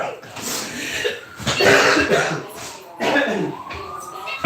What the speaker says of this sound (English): Hold on, I gotta cough.